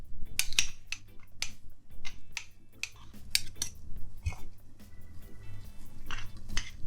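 Metal clinks and clatters sharply as a pan of potatoes for a Jamaican Christmas meal is handled and slid into an oven, in scattered close knocks over quiet background.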